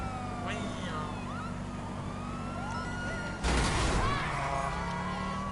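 A police car siren in a video game, wailing tones sweeping up and down over a steady engine hum, with a sudden loud crash-like burst partway through; a voice speaks faintly in the background.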